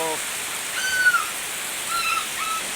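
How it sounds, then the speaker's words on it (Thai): Rain falls behind a temple in a steady, even hiss with no letup, while a couple of faint, thin bird whistles sound in the background. "กาดฝนตกข้างหลังวัด"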